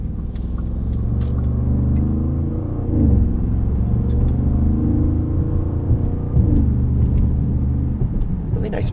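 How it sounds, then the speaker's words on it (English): The twin-turbo 641 hp V8 of a 2026 Bentley Bentayga Speed SUV gives a deep, steady exhaust rumble that swells briefly twice as it revs, heard from inside under ongoing conversation. "Really nice bassy exhaust"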